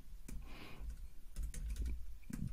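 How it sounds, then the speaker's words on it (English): Typing on a computer keyboard while entering notes in the Mem app, heard as several bursts of clustered key clicks separated by short pauses, fairly close and clear with no talking. "This is just something random that I'm typing for the sake of this video."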